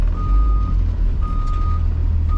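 Two long, steady electronic reversing beeps from a school bus, spaced apart, sound over a low idling engine rumble close by.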